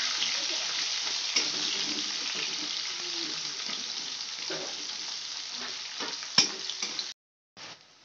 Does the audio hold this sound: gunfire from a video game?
no